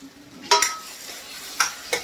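Red chili, coarse coriander and garam masala are stirred together in a pan, with a faint sizzle and three or four sharp spatula scrapes against the metal.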